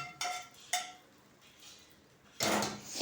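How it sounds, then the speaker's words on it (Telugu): A metal spatula knocks and scrapes against a pot while tempering is mixed into cooked rice for ginger pulihara: two sharp clinks near the start, quiet stirring, then a louder burst of scraping near the end. "ఇందులో వేసేసి శుభ్రంగా అట్ల కడతో కలిపేద్దాం"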